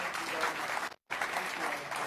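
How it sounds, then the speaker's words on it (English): An audience at the Reuters NEXT summit applauds loudly and steadily, with a brief cut to silence midway before the clapping resumes at full strength. "I don't know if you can hear the applause."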